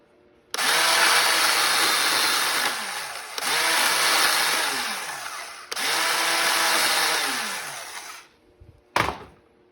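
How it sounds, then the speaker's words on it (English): Power tool cutting copper rings off 300 Blackout subsonic brass casings: three long, loud, steady whining bursts with brief breaks between them, then a short clatter near the end. "all you got to do is cut these rings off and be careful not to damage the brass"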